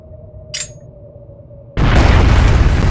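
A bomb in Trails of Cold Steel goes off with a sudden, loud, sustained explosive roar that fills the last second of the clip, after a quiet hum and a brief high beep.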